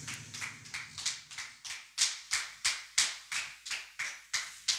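A church congregation claps in a steady rhythmic beat, about two claps per second and close by, with a faint low hum underneath.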